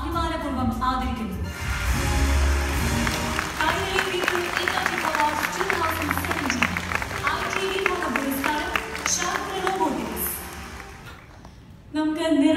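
Applause at an IT award ceremony honouring a Kerala robotics startup's founders, a steady wash of clapping from a large crowd running for about eleven seconds beneath a presenter's amplified voice, then tapering off.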